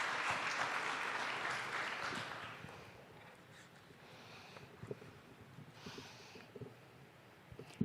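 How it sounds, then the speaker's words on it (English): An audience gives a round of applause for a presenter, dense clapping at first that thins and fades after a few seconds, leaving scattered claps and light room noise. "Please give her a round of applause."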